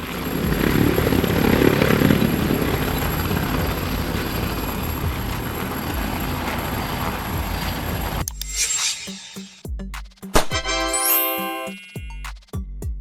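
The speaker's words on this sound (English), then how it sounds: "Ambulance helicopter. Also known as a medevac helicopter" An ambulance helicopter drones loudly and steadily, a continuous rotor and engine roar for about eight seconds before it cuts to bright chiming music.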